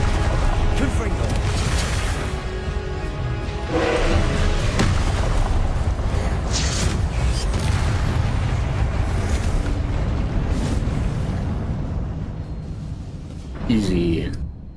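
Confringo blasting spells explode in the Hogwarts Legacy video game, a dense continuous roar of booming blasts and rumble with a brief sharper burst near the end.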